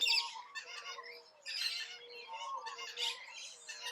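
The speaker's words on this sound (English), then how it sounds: "King parrots are normally encountered in pairs or family groups." Australian king parrots give a series of harsh squawking calls in bursts, close and fairly loud, with short gaps between the groups of calls and no other sounds around them.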